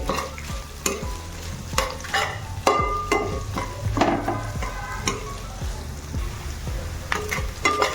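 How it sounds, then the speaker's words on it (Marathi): Chopped onion stir-fried in a hot pan for a quick spicy home-style dish, with a steady close sizzle broken by repeated scraping and stirring strokes of a spatula against the metal, and no talk. "तर आता इथे आपण कांदा छान गुलाबी रंगावर परतून घेऊया"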